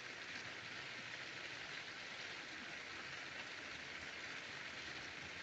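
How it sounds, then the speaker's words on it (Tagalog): Heavy rain pours steadily in a rural rice-farming setting, a dense, even hiss that stays constant throughout with no voices. "Ayan po, lakas ng ulan."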